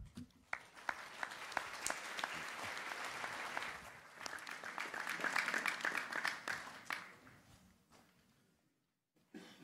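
Audience applause after a speech at a MoneyShow investment event, steady clapping from a sizable crowd lasting several seconds before tapering off into near silence at the end.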